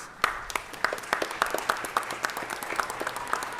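People at a Los Angeles city council meeting applaud, making distinct, rhythmic hand claps from a modest crowd that keep a steady pace for a few seconds.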